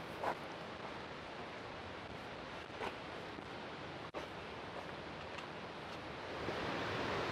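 Water from a waterfall inside a cave at Lost Creek Falls in White County, Tennessee rushes in a steady, soft, even wash with a few faint knocks, heard at a distance with no voices.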